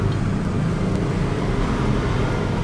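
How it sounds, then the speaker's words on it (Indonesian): A Yamaha N-Max scooter engine idles roughly with a worn rocker arm, giving a steady, close mechanical rumble and clatter that holds at constant loudness with no talk. "ini udah fix yang menimbulkan suara berisik ini pada motor ini rocker armnya"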